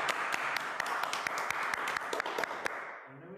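Applause from the congregation at a Gnostic worship service, a short burst of dense hand claps with sharp individual claps standing out, fading away at the end.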